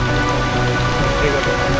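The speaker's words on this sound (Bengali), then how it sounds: "প্রচণ্ড বৃষ্টিতে ভয়াবহ অবস্থা" Heavy rain pours down steadily at a waterfall campsite, a dense, loud hiss of drops drumming on surfaces with no pauses.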